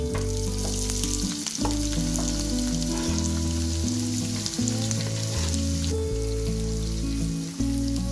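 Two large finely chopped onions fry in oil for a homemade Changezi chicken with a loud, dense, continuous sizzle. Steady low tones run beneath and occasional spatula ticks punctuate it, with no talk.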